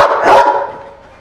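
A single loud, close dog bark, rough and full-bodied, fading quickly with no other sounds around it.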